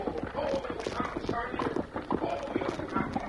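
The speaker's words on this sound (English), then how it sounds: "Look at Jake Withers jerk the reins. He sure is mean to horses" Horse hooves clip-clop steadily in an old radio drama, a close, rhythmic run of hoof strikes heard under people talking throughout.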